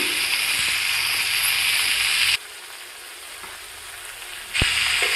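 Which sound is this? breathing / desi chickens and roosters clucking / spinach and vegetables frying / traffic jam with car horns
spinach and vegetables frying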